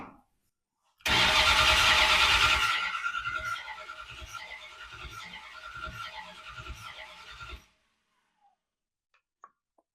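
A 1975 Dodge D150 pickup truck engine cranks and catches with a loud burst, then settles into a steady rough running rumble for several seconds before cutting off.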